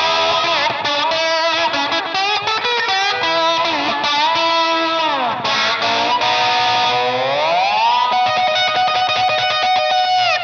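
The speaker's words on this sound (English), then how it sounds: "I added a bit more slapback delay and some spring reverb." Distorted electric guitar through a VOX StompLab modeling effects processor, playing sustained chords and bends, with a quick slapback echo and a splashy spring-reverb tail, loud and continuous.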